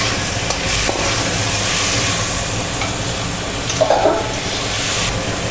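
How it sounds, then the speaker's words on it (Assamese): Potatoes frying in a hot pan while a paneer curry is cooked, a loud, steady hiss and sizzle of oil with a few stirring clinks partway through, and no talking. "এতিয়া মই ইয়াতে আলুখিনি বহাই দিওঁ।"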